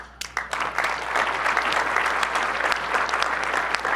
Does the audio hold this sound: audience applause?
yes